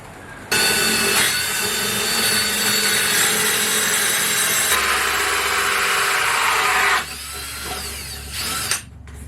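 A power drill spins a 2.5 inch hole saw through the wood ceiling of a van build, a loud steady grinding whir that runs for several seconds, then drops to a lower rough tone before stopping.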